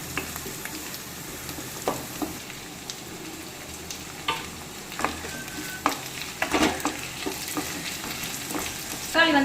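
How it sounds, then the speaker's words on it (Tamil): Garlic frying in oil in a pan for a fish curry, stirred with a spoon in repeated scraping strokes and clinks over a steady sizzle, close and growing busier toward the end, no voices. "அது வரைக்கும் நல்லா கிளறி விட்டுக்கலாம்."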